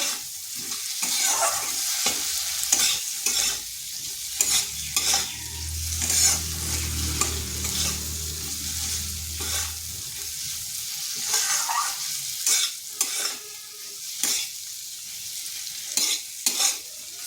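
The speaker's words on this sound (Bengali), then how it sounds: "মশলাটা কষানো হয়ে গেছে, দিয়ে দিচ্ছি আলুগুলো" Potatoes are stir-fried with a cooked-down spice paste in a pan, making a constant sizzle with frequent sharp scrapes and taps of a spoon against the pan, close and without talk.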